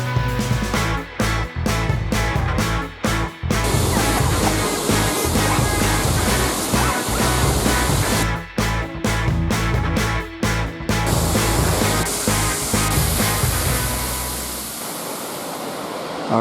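A rainforest waterfall pours with a steady, loud broadband rush, close by, interrupted by brief dropouts and easing slightly toward the end.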